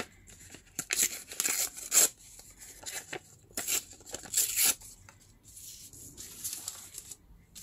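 Newspaper being ripped into strips against a ruler edge, with a series of sharp tearing bursts separated by short pauses and soft paper rustling, close and alone without speech.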